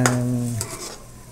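A pot of boiling papaitan, a bitter stew of tuna innards, being stirred, with a brief metallic scrape of the utensil against the pot over a steady bubbling hiss.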